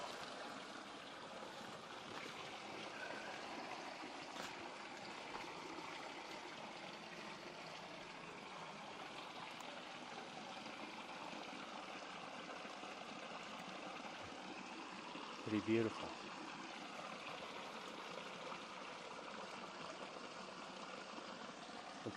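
Flowing stream water heard from a stop on a long bicycle tour, a faint, steady rushing that stays constant throughout, with a short spoken remark about two-thirds of the way in.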